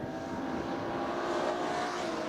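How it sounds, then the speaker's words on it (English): Classic sports and saloon race car engines howl along the main straight in a steady, fairly distant blended drone that swells slightly midway, with no talking. "3 completely different sounding engines, and all sounding very, very nice."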